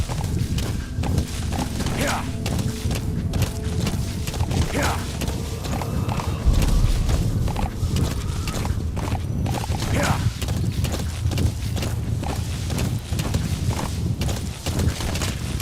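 Hooves clopping steadily as a horse is ridden in Metal Gear Solid V, a continuous moderate rhythm of hoofbeats under game ambience with a voice talking over it.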